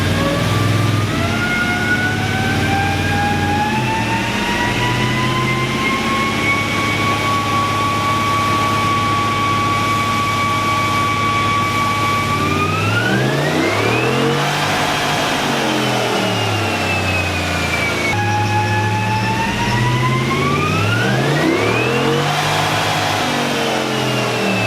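A Ram's engine drones steadily on a dyno, then climbs in pitch through two long revving pulls, each dropping back before rising again, loud and close with no talk.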